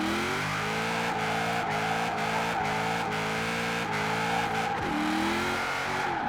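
A 1000-horsepower Holden Commodore Group A drift car in Forza Horizon 4 screams at high revs, its loud engine droning steadily with quick upshifts and a brief dip and surge near the end.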